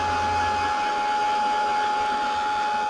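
A handheld heat tool for drying sprays and ink pads on papers runs steadily throughout, a continuous close whirring blow with a faint low hum easing off early on.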